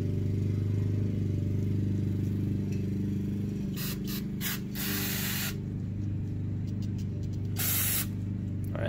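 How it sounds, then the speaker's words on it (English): Cleaner sprayed into a dirt bike carburetor, several short hissing bursts up close over a constant low engine-like hum. "Spray this out again."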